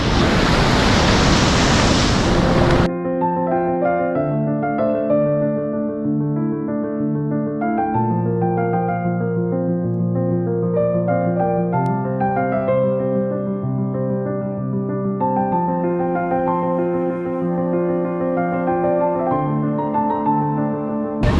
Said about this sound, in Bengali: যেহেতু বৃষ্টি পড়ছে